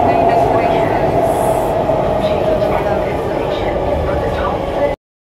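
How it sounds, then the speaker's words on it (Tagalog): Singapore MRT train passing close by, a loud steady rumble with a sustained tonal whine that holds for about five seconds before cutting off abruptly. "Ingay ng train guys."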